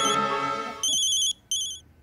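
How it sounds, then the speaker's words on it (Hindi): A mobile phone rings for an incoming call, sounding two short bright electronic ringtone bursts, close and clear, following a moment of fading background sound. "अभी ये रसीला बार बार फोन कर रही है"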